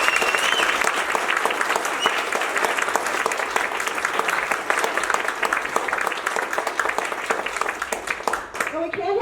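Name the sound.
audience applause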